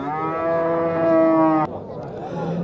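A cow moos loudly at a livestock market where a milk cow and bull calf are traded: one long, steady bellow of about a second and a half cuts off abruptly, leaving the crowd's ambient murmur behind.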